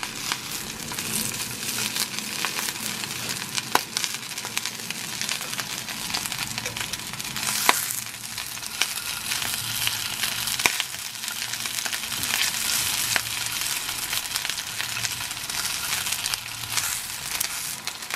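Bean balls (albóndigas de frijoles) frying in oil in a pan, a dense, continuous sizzle and crackle with occasional sharper pops, close and fairly loud throughout, with no voices.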